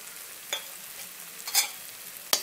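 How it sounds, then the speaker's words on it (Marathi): Peanut powder stirred into softened tomato in a hot oiled pan for a Maharashtrian drumstick dry curry, with a faint steady sizzle and three short scraping stir strokes, no talk. "तेही परतवून घ्यायचं आहे."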